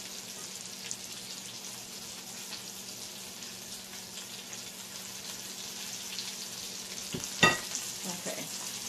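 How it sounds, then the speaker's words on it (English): Sweet potato black bean burgers frying in a pan give off a steady, close sizzle throughout, with a sharper crackle and a brief clatter near the end, and no talking. "flipping my burger again. And these are almost done."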